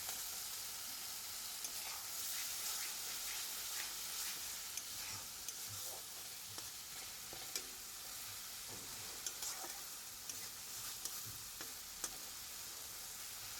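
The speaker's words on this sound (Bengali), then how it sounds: "পেঁয়াজ রসুন কাঁচা লঙ্কার পেস্টটা দিয়ে ভালো করে মশলাটা কষিয়ে নেব" Onion, garlic and green chili paste masala sautéing in a pan, a steady soft sizzle with occasional scraping and stirring clicks, close and quiet, with no voices.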